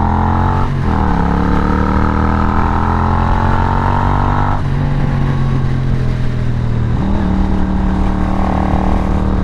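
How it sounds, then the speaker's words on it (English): A Triumph Bonneville America motorcycle engine idles and revs up and down close by, its exhaust giving a loud, continuous rumble with occasional pops. "it's got a little bit of that pop going on the exhaust"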